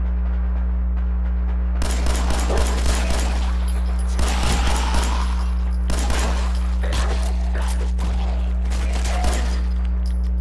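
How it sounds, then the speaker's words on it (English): Bursts of rapid gunfire crackle in irregular volleys over a steady electronic hum, sounding somewhat distant and clustered in short rattling bursts, in the video game Fallout 4. "You can actually hear gunfire in the distance."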